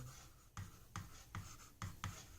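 Short scratchy strokes of writing on a board in a class 10 maths lesson, about five quick marks spaced roughly half a second apart, close and fairly quiet with no talking.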